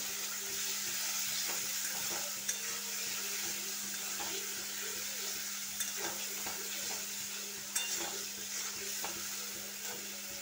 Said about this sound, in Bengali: দিয়ে দেব নুন, ভালোভাবে নাড়িয়ে নেব